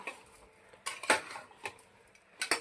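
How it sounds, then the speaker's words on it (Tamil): A spoon scraping and clacking against a pan while eggplant, capsicum and cauliflower are stirred for thokku, several sharp irregular knocks over a quiet background, with no voices. "கத்திரிக்காய் போட்டு நல்லா கிண்டி விட்டு"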